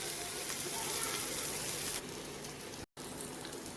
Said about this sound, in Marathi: बघा तर दुसऱ्या साईडनेही आपले बोंबील छान फ्राय करून घेऊया.